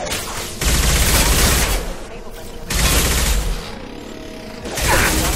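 Bursts of rapid gunfire in the video game Mass Effect 2 come in three loud volleys separated by short lulls, with game sounds and faint talking between them.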